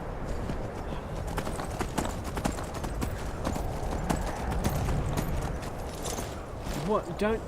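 Horse hooves clip-clop in the Skyrim video game as a string of crisp, closely spaced knocks over a busy game soundscape, with a short whinny-like sound near the end.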